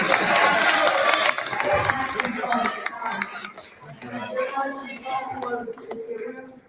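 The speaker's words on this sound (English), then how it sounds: "And they all applaud." An audience at a speech in San Francisco breaks into loud applause and cheering, a dense wash of clapping and shouts that gradually thins into scattered claps and crowd chatter.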